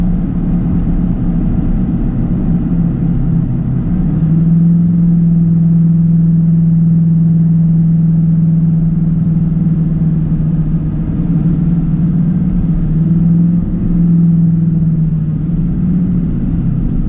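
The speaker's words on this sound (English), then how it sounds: "You can hear it actually downshifting." Derringer-tuned Duramax L5P diesel truck downshifting in tow/haul mode with grade braking, heard from inside the cab as a steady low engine rumble with a rising, held drone, continuous and loud throughout.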